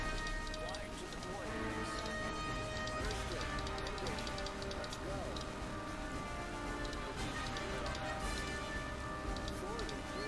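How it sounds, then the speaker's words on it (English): Rain falls in the World War II strategy game Strategic Mind: Fight for Freedom, a steady, even patter and hiss across the whole stretch, with a soft musical drone underneath. "Although it starts to rain."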